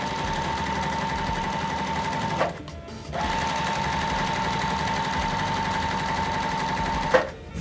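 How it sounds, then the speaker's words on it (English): A sewing machine stitches quilt squares along a drawn line in a steady, rapid mechanical whir. It pauses briefly in the middle, resumes, then stops with a short clunk near the end. "we're gonna sew directly on top of that line."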